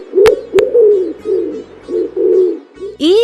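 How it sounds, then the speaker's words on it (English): A pigeon coos in a run of low, throaty rolling notes, close and loud, broken by two sharp clicks early on and a rising call at the end. "Pigeon."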